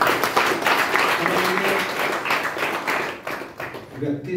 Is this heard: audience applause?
yes